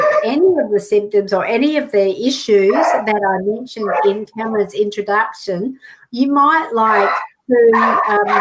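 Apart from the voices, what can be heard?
dog barking during a live broadcast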